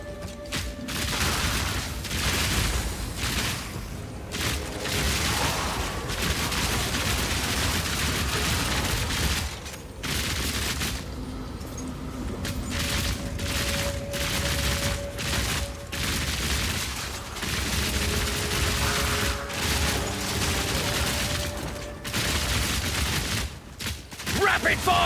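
Rapid crossbow fire in Path of Exile 2 played as a Witch Hunter, dense bursts of repeated shots and booms coming in clusters across the whole stretch, loud and close, with short gaps between volleys.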